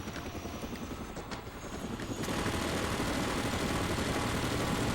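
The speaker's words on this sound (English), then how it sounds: "the helicopter is following me" Helicopter in the video game Far Cry Instincts, a steady whirring rotor drone that grows louder and fuller partway through and holds close and continuous, with faint gunfire-like pops beneath it.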